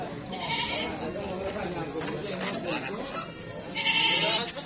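Goats bleat at a busy Indonesian livestock market, the calls rising loud and close near the end over constant crowd chatter and people talking nearby.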